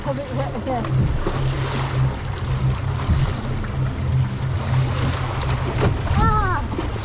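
Water sloshes and splashes around a boat on a theme park water ride, a continuous churning wash with rushing noise, people talking and a brief excited voice near the end.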